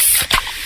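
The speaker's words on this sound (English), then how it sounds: "that's the sound of a freshly opened fizz-filled Pepsi" A can of Pepsi cracks open with a short, sharp pop, then a loud, close fizzing hiss of carbonation continues briefly.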